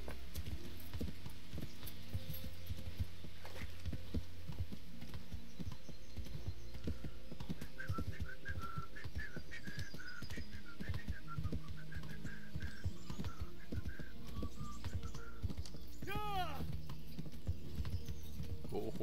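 Horse hooves clip-clop steadily in the medieval video game Kingdom Come: Deliverance, a quiet, even trotting rhythm over a low ambient bed, with a brief high whinny-like call near the end.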